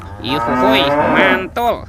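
A toy cow gives a loud, close electronic moo that is drawn out across most of the moment, followed by a short vocal burst at the end.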